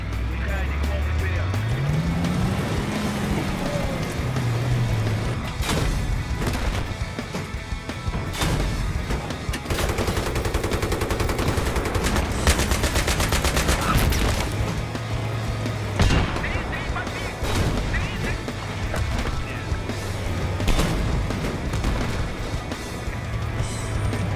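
Tank combat in the video game Battlefield 3: heavy cannon booms and gunfire burst over a constant rumbling engine drone, loud and close, with a voice talking over it.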